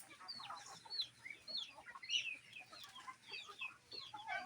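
A caught chicken clucks and squawks in short, agitated bursts, fairly quiet and close, with no talk over it.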